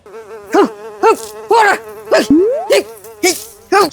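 A housefly buzzes in a Malayalam comedy sketch, coming as about eight loud, close, whining bursts with short gaps between them and no talking.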